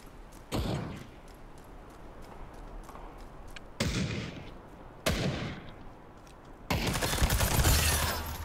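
Gunfire in Battlefield 2042, heard as a series of sharp single shots spaced across several seconds, then a louder, sustained burst of firing, with a faint ambient wash underneath and no voices.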